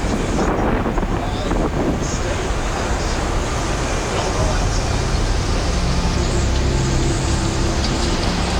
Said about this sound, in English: That's the grinding 100-mile-an-hour plus winds for hours.